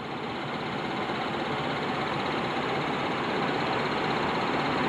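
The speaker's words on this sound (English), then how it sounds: "my engine is making like this really weird rattling noise" A steady, dense engine rattle with a constant buzzing clatter, unchanging throughout and recorded up close.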